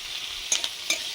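Chopped onion with five-spice tempering and dried red chili fries in oil, giving a soft steady sizzle with a few quiet clinks as the pan is stirred, and no voices.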